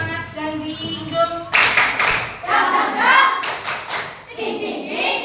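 A group of teachers in a training session performs a rhythmic clapping cheer, sharp patterned claps in bursts alternating with sung chanting voices.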